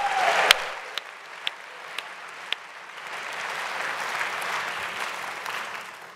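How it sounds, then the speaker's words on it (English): Applause at a British documentary awards ceremony, with a few sharp isolated claps standing out early before a fuller, softer wave of clapping from the audience swells and continues. "let's have a round of applause for all our sponsors"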